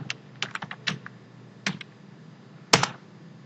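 Keys tapped on a computer keyboard while building a PowerPoint slide, a handful of separate clicks with uneven gaps and one sharper double stroke near the end, close and dry.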